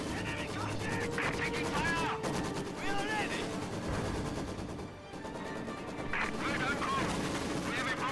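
Maxim machine guns fire from a church in the Company of Heroes 2 video game, cutting down a Grenadier squad. Dense, continuous game-battle gunfire and explosions roll through the mix with music and effects, and a voice talks over it.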